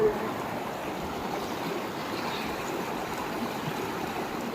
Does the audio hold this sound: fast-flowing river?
yes